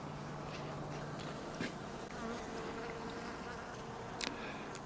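Honeybees buzz close by during bee venom therapy for shingles, a steady, fairly quiet drone with a few brief louder passes as individual bees move nearer.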